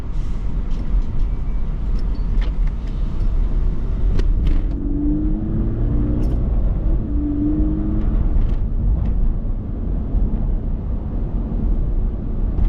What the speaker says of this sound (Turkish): Şu arabaya egzoz yüksek ihtimal egzoz sesinden beni duymazsınız video çekerken.